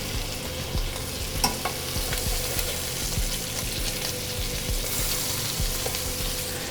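Butter sizzles in a hot pan with seared scallops, giving a steady, loud frying hiss with repeated scrapes and taps of a utensil stirring through it, and no voices.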